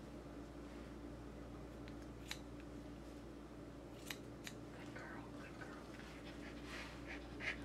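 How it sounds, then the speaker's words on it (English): Scissors snip through a cockapoo's fur in a few sharp, close clicks over a steady low hum, with faint panting from the dog. "These are not the ideal scissors for this"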